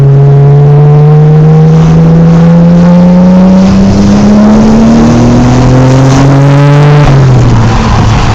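A loud Nissan Skyline R34 GT-R engine revs continuously, its pitch climbing steadily for several seconds before dropping sharply near the end.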